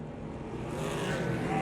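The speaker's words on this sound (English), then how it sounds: "Pace car pulls off." A pace car pulls off the track during an ARCA Menards Series race at the Springfield Mile dirt oval, engine rumble building steadily and growing louder alongside broadband race-car noise, with no voices.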